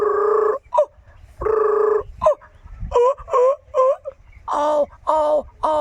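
A voice imitates morning bird calls, giving a series of warbling, wavering whistles and honking hoots in short bursts separated by pauses.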